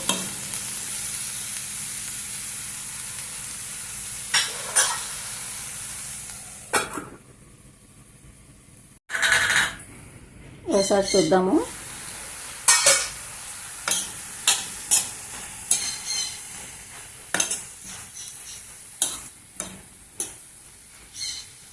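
Potato and cabbage curry with tomato frying in a pan over medium heat, sizzling steadily with repeated sharp scrapes and clicks of a spoon stirring, a short quiet gap midway.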